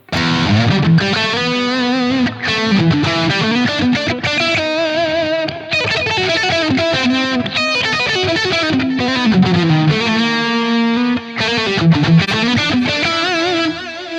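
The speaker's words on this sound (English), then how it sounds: "when the delay is on and the reverb is on, does the delay go into the reverb?" An electric guitar played through the Blackstar St. James amp plugin with distortion, delay and reverb rings out in sustained, overdriven melodic phrases whose echoes trail into a wash of ambience, loud and close with no talking.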